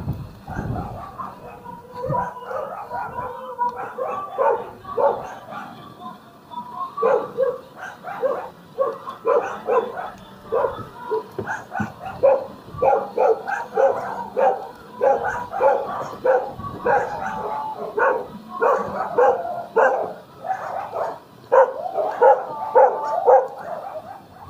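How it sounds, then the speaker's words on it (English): Many dogs bark repeatedly around a residential neighborhood, the overlapping barks and yips forming a dense, continuous chorus at moderate distance, with wind noise underneath and occasional faint voices. "So many dogs."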